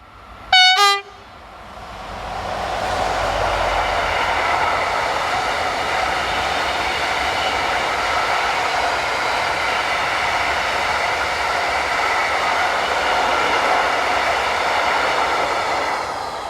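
Freight locomotive E4019 heading south with a train of empty stone hoppers, opening with a short loud horn blast, then a steady sustained roar of wagons rolling past at close range for the rest of the clip, no voices.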